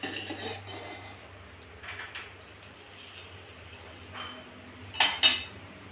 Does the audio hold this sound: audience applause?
no